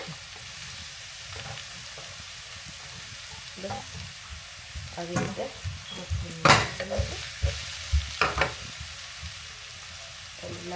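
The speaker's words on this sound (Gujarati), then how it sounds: "હવે આપણે મશરૂમને આવી રીતે બધાને ફ્રાય કરવા માટે" Mushrooms sizzle in hot oil in a home kitchen as a small spoon stirs them, giving a steady frying hiss with scraping clinks that cluster in the middle. A voice speaks briefly.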